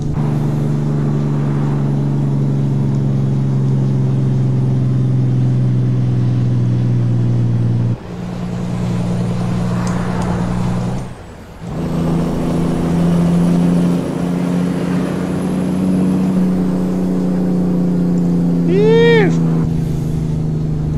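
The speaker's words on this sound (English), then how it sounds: "this sound comes off the C15 straight piped Caterpillar engine" Kenworth T-609 with a straight-piped Caterpillar C15 engine in American Truck Simulator, revving loudly with a deep steady drone, briefly dropping off and cutting out, then building back up, with a short whine near the end.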